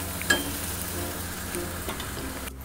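A spice masala for stuffed pomfret is sautéed in oil, producing a soft, continuous sizzle with a few light scrapes of stirring near the start and end.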